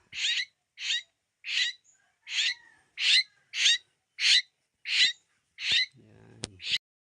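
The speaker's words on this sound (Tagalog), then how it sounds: "Ito ba yung nagsasalitang ibon?" A pet bird locally called a saling, presented as a talking bird, gives about ten evenly spaced, clear, shrill calls close to the listener, with a brief click and a soft rustle near the end.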